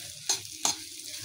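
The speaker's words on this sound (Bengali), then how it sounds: "সেটাকেই বসিয়ে দিয়েছি ভাজা, আস্তে আস্তে ভাজা হোক" Ivy gourd fries slowly in a pan with a faint, low sizzle, broken by two sharp scraping stirs of a spatula about a third of a second apart.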